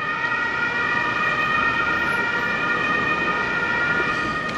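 A loud, continuous siren sounds close by over the dense roar of rush-hour traffic on a city street in Bremen.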